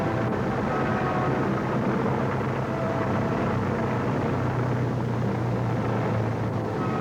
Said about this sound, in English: With the slack taken up, the ropes ease the twin glider load onto the runway behind the plane.